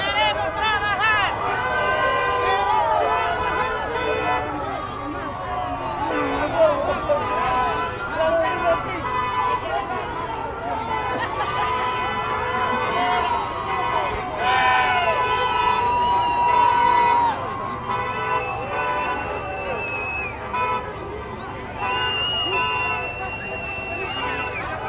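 A big crowd of restaurant workers protests on a New York City street, a dense roar of voices and chanting with sirens wailing through it, loud and steady throughout.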